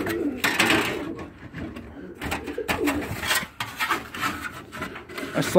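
House sparrows flutter and chirp inside a trap cage in a shed, with scraping and rubbing of the cage against wood, fairly close and irregular over a few seconds.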